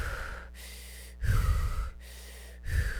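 A person imitates rapid, panicked breathing during an anxiety attack: three quick, harsh gasping breaths, close to the mic, separated by short silent pauses.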